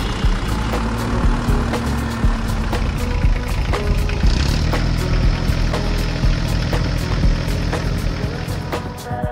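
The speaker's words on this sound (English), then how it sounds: "The engine purred steadily, and the spreader mechanism was ready for action." A new green tractor's engine runs steadily at the edge of a field, a continuous low mechanical drone with faint clicks and rattles over it, close and even throughout.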